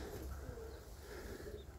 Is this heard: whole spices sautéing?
no